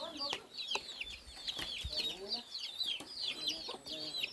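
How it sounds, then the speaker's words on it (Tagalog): Several chickens cluck and chatter nearby outdoors in short, repeated bursts, with scattered knocks and soft background noise between the calls. "Marami ring mga manok dito"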